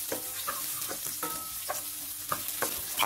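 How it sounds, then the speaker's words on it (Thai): Ginger, garlic, coriander root and soaked shiitake mushrooms stir-fried in a little oil: a steady sizzle broken by repeated scraping strokes of the spatula against the pan, close and fairly loud, with no talking. "ใส่น้ำมันลงไปเล็กน้อยแล้วก็ตามด้วยขิงกับกระเทียมรากผักชีนะครับ ลงไปผัดให้หอมก่อนครับ"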